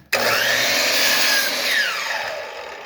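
A motorized saw whines loudly as it starts and cuts lumber for pallets, its pitch sagging under load then easing off, lasting about three seconds.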